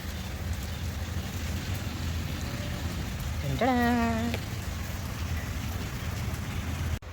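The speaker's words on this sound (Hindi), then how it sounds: "मगर फिर से बारिश शुरू हो गई।" Steady rain falls in Karachi, a broad constant hiss throughout, with a brief tonal call rising over it midway.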